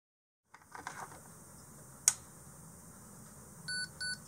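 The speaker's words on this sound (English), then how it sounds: "The test device makes two beeps, which indicates that all values are in limits." An ATX power supply tester gives two short electronic beeps near the end, after a switch click and a sharp snap, against a faint steady hum.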